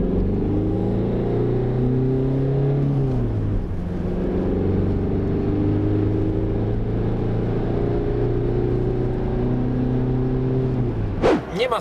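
A Citroën Berlingo 1.6 HDi diesel van engine accelerates through gears, pitch climbing, dropping at a shift, then rising again, heard steadily from inside or nearby.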